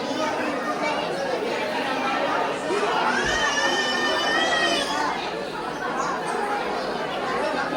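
A large crowd of devotees at a temple fills the air with dense, continuous chatter and overlapping voices, children's calls rising above the murmur nearby.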